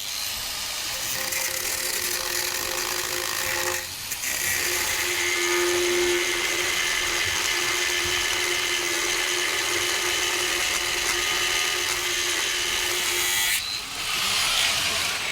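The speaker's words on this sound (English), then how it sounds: "First things first, I need to cut this hole in the back so I can see what's inside." Power tool cutting a hole in the back of a safe, a loud sustained grinding whine that runs almost unbroken, dropping briefly once and stopping near the end.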